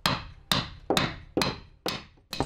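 A caulking mallet strikes a bent caulking iron as seams on a wooden boat are caulked. Six sharp, loud wooden knocks fall at a steady rhythm, each ringing briefly before the next blow.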